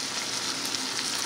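Onion and green pepper fry and get stirred in a hot pan for chicken fajitas, a dense, steady, close sizzle that fills the short moment with no talking.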